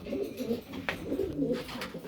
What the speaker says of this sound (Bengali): এগুলো হচ্ছে ভাইদের ব্রিডার কবুতর